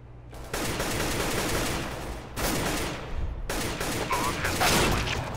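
Rapid automatic gunfire in Counter-Strike: Global Offensive, loud and close, comes in three sustained bursts separated by brief gaps, with the final burst the loudest.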